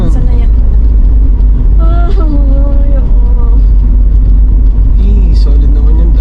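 Manual car engine being revved by a learner driver on a road, a steady low rumble with slight rises in pitch, heard under people talking inside the car.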